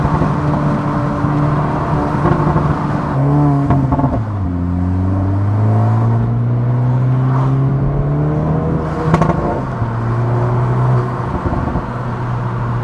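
An Acura Integra Type S with an MBRP exhaust and Eibach springs accelerates and cruises past a median, its loud exhaust droning and sweeping up and down in pitch through gear changes, with wind rush and a pop near the end.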